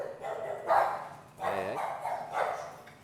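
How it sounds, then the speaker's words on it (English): Dogs bark indoors in the background, three separate barks, moderately faint and a little distant. "There's the dogs, as always in our videos."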